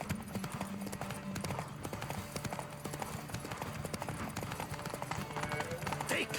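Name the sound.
horse galloping in The Witcher III video game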